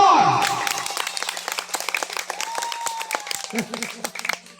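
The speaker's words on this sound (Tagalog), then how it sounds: "Palakpak contestant number 4." Applause for contestant number 4 at a Filipino party contest: a burst of clapping and cheering, loud at first, then scattered claps over chatter and background music.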